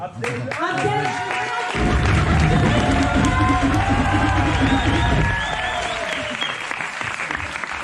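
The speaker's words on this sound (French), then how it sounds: "Il faut faire un maximum d'applaudissements pour la personne qui a animé quand même tout le battle." Audience applause and cheering for the host of a battle event on stage, a loud dense crowd of clapping with whoops running the full length and swelling in the middle.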